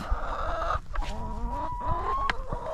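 Farm hens clucking at feeding time near a hot fence, several birds giving close, irregular clucks and drawn-out calls over a low background murmur.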